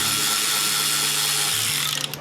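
An 8mm ratchet loosens the throttle body clamp on a 2008 Ford Taurus, a loud, close, rapid clicking of the pawl running steadily and then stopping with a few scattered clicks.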